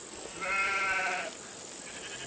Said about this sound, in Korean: 양과 염소는 항상 같이 기릅니다.